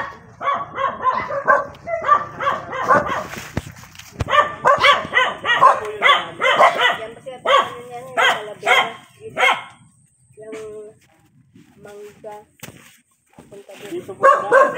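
Several dogs at a house where many dogs are kept bark in repeated bursts, loud and close, with a few quieter yips and gaps in between; people talk at times alongside the barking.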